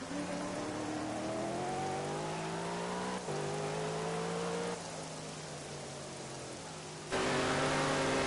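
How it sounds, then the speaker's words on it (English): Light rainfall on the Nürburgring GP race track in Project CARS makes a steady, soft hiss beneath the droning race car engine, whose pitch climbs and drops with each gear change. "It's rainfall, light rainfall."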